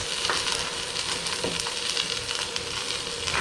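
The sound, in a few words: searing seasoned shredded beef in Instant Pot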